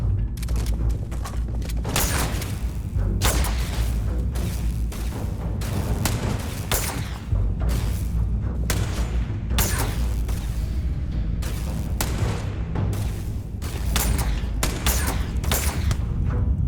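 Sniper rifle fire in the video game Starfield, with repeated sharp, loud shots and booms over constant rumbling game noise and mechanical clatter, spaced irregularly across the clip.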